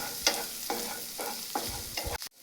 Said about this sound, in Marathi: आलं लसूण चांगलं भाजून घ्यायचंय खरपूस।